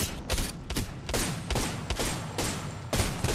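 Rapid gunfire in Apex Legends, loud close bursts of repeated shots in quick succession, roughly two to three per second, sharp and continuous across the clip.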